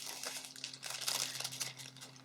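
Thin Dollar Tree cellophane is crinkled and handled for a gift basket, giving soft, irregular rustling bursts up close that swell and fade for a couple of seconds.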